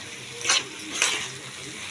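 Shredded cabbage is stirred in a pan over a steady low sizzle to cook off the water. Two brief scrapes of the spatula stand out close up, with no talking.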